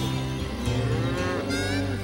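A cow lets out a loud, drawn-out moo close by, a deep bellowing call that rises and wavers, standing alone with no talk.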